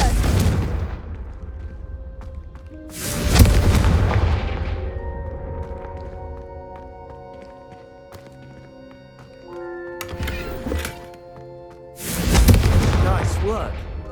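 Fiery Confringo spell blasts in Hogwarts Legacy boom out in bursts, a deep rumbling explosion followed by ringing magical tones, then two more heavy blasts later, with spoken game dialogue between.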